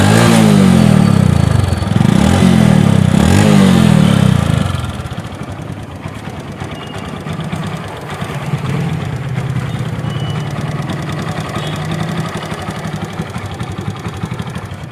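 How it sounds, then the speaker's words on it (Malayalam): A Honda Twister motorcycle engine idling loudly and steadily before its silencer is decarbonised, with a heavy throbbing burst at the start before settling into a quieter, even idle. "വണ്ടിയുടെ ഇപ്പോഴത്തെ ക്ലീൻ ചെയ്യണതിന് ഇപ്പോൾ നിലവിലുള്ള ശബ്ദം"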